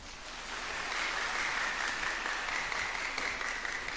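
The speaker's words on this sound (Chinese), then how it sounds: "给点掌声。" Warm audience applause at a church's 30th-anniversary revival meeting, a dense crowd clapping that swells in and holds steady and loud for several seconds.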